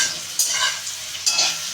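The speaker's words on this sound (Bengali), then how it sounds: "এটা দিয়ে এবার একটু ভালো করে ভাজা ভাজা হয়ে গেলে এটা নেড়ে নিতে হবে।" Dried chilli and five-spice frying in oil in a pan, stirred with a utensil, a close crackling sizzle with two sharp scraping strokes.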